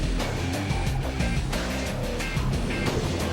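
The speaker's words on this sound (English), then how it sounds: "Gliding through the waves into first position, Spain's Enrico Llanos." Steady, loud ocean surf and churning water fill the scene during the open-water swim of the 2005 Xterra Championships triathlon, with a constant wash of waves and wind and no speech.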